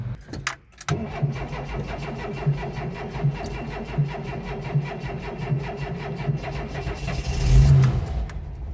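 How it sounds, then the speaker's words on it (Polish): An old Volkswagen T2 with an automatic gearbox cranks hard while cold, its starter churning rhythmically for several seconds before the engine catches and revs up briefly near the end. "Teraz rzucę Wam przebitkę, jak ciężko pali, kiedy jest zimny."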